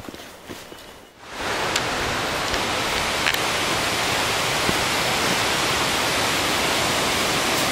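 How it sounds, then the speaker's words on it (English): Bear Creek rushes through the Great Smoky Mountains in a loud, dense, steady roar of running water that swells in after a quiet second and continues unbroken, close by with no talking. "you hear all that water running?"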